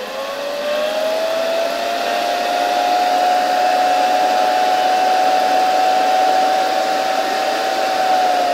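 A vintage German Siemens Protos Rapid vacuum cleaner motor runs at raised voltage, giving a steady, loud high-pitched whine that climbs slightly as it spins up and then holds constant throughout.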